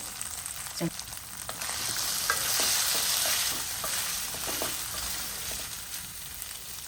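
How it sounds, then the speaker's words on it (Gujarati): Sabudana (sago) with potatoes frying in a pan, a steady close sizzle with scraping and clinking as the mixture is stirred, no voices. "તો આપણા બટેકા સડી ગયા છે તો એમાં આપણે સાબુદાણા નાખશું સ્વાદ પ્રમાણે મીઠું નાખીને"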